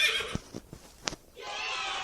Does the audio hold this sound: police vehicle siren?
no